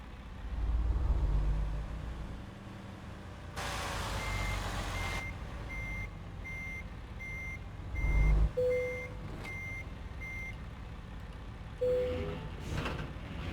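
A big rig reversing to hook up a new step deck trailer in American Truck Simulator, a steady backup beeper pulsing over an idling diesel engine, with air brake hisses and clanks.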